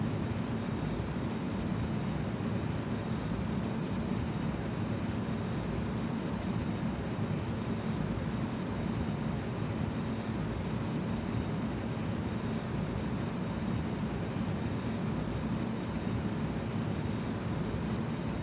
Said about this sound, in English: Eurofighter Typhoon, people.